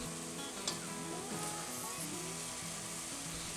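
Leeks frying in hot butter in a medium to large saucepan give a steady, soft sizzle with faint crackle, close and continuous, with low background music and a single small clink near the start.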